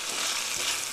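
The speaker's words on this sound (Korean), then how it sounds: "토마토가 신맛이 조금 날아가게 이렇게 한 2분 2분 정도 볶아주세요" Tomato sizzles and crackles in a hot pan while being stir-fried for a pork stew, a dense, steady frying hiss with no voices.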